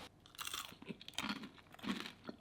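Close-up chewing of crunchy hot honey nut chocolate chip popcorn: quiet, brittle crunches in quick irregular bursts, intimate and soft, with no talking.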